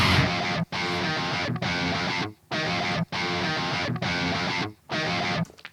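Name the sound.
chopped looped electric guitar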